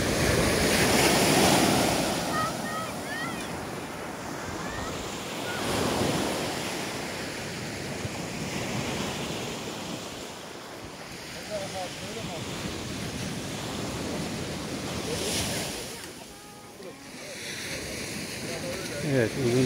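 Gentle waves wash onto a sandy Black Sea beach at Sinop, a soft continuous surf with swelling and receding rushes, under steady wind buffeting and a voice talking at times.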